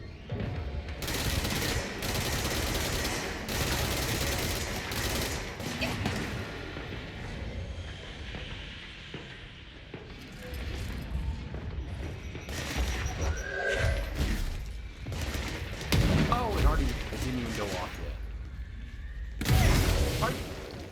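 Sniper and other gunfire in the video game Control, with dense bursts of shots and impacts running almost throughout over a busy game soundscape.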